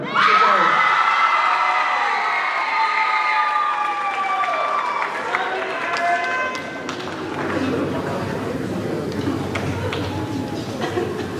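A crowd in a high school auditorium breaks into loud applause and cheering at the close of a spring band concert, with whoops and shouts over steady clapping that slowly settles.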